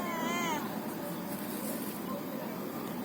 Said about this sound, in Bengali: বিলাইটা অনেক সুন্দর